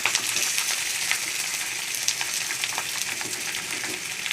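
Spices frying in hot oil in a pan give a loud, continuous close sizzle with crackling pops scattered throughout.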